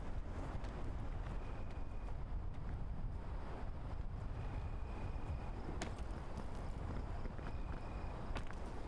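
Steady wind gusting across a mountain climb in the video game Peak, a constant broad rushing roar that fills the whole stretch at an even level, with a few faint high tones and sharp ticks over it.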